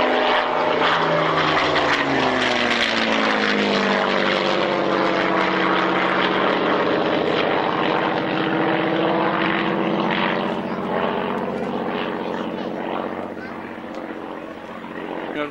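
A Messerschmitt Bf 109 Gustav fighter flying at the 1997 Shuttleworth Collection military airshow at Old Warden, its loud, droning propeller engine roaring steadily and slowly fading, with an announcer talking over it.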